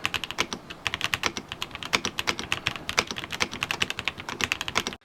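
Fast, continuous typing on a Kwumsy K3 mechanical keyboard with a light, non-thocky sound. Close, crisp keystrokes rattle in quick irregular bursts with no pauses.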